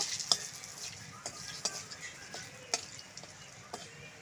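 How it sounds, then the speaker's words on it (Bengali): Whole dried red chillies fry in hot oil with a faint, steady sizzle, broken by sharp ticking pops and light stirring clicks at irregular intervals. "গোটা শুকনো লঙ্কা দিলাম। এটাকে আমি ভাজা ভাজা করে নেব।"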